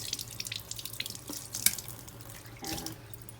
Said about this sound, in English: and then do a nice little rinse.